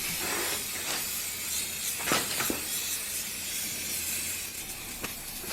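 Top coat sprayed in short hissing bursts onto a tire rim with rags tucked between rim and tire, a steady faint spray with a few sharper pops, no talk.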